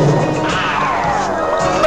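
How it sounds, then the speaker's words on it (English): A machine gets smashed in a Snorks cartoon, a loud, dense crashing clatter that fills the whole short moment with little pause. "Those clumsy snorks have smashed my stop-ocean motion machine."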